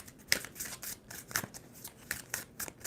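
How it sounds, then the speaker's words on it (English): Tarot cards being shuffled by hand during a reading, a quiet, close series of crisp riffling bursts repeating in quick irregular strokes, with no talking. "Two more shuffles."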